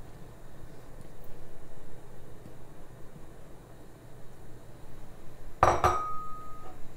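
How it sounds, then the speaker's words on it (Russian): Dirty dishes cleared away in a home kitchen while cooking chicken, giving a single brief, bright clink of glass or crockery near the end over quiet background hiss. "Убрали некрасивую грязную посуду."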